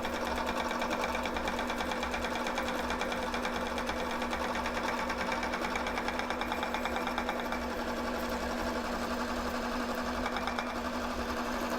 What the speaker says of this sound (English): So now we're clear to wind a new bobbin.